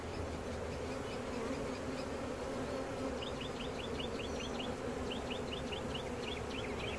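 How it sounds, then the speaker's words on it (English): Dense, continuous buzzing of many honey bees close by at a swarm trap, with faint chirping bird calls scattered in the background; no talking. "Now we have bees on the frame, just taking."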